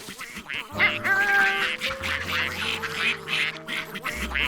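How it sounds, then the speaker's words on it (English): Cartoon ducks quack in a lively run of repeated, nasal calls, close and loud, layered over soft background music with no speech. "Ducks!"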